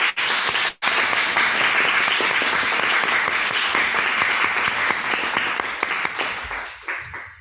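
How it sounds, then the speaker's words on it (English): Sustained audience applause after a presentation on the rejection of alchemy, a dense, loud wash of many hands clapping that runs steadily throughout and tapers slightly at the end. "Clapping."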